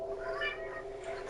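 A cat in Vampire The Masquerade: Swansong gives a single drawn-out meow, close and fairly quiet, over a faint steady background hum with no talking.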